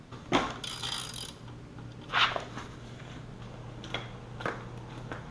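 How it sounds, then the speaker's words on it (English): A wrench works on a dirt bike's rear wheel nut, giving a few sparse metallic clicks and ratcheting sounds spaced a second or two apart against a low steady hum. "the trick to loosening up the back wheel is you want to put a wrench on both the left and the right side"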